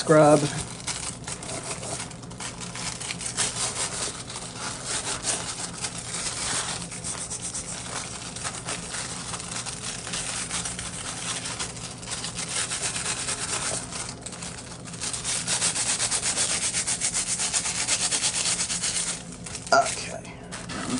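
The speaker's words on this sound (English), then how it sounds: "we're going to massage it everywhere. Give it a little bit of a scrub" Foil being rubbed and scrubbed over an egg makes a steady, close crinkling and scraping that runs almost continuously, swelling slightly louder in the later part.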